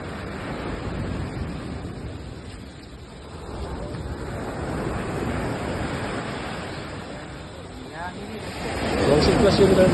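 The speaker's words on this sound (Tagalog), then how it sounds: "dagko kayo ang balod" Big sea waves churned up by a typhoon, a continuous rushing roar mixed with wind buffeting the microphone, swelling louder toward the end, with a voice talking over it.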